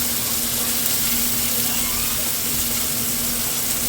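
Battered snapper frying in a pan of hot oil gives a steady, even sizzle that stays loud and close, with a low constant hum underneath and no talking.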